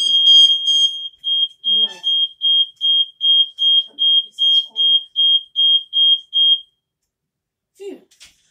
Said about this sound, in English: You can't prank their family with the fire alarm.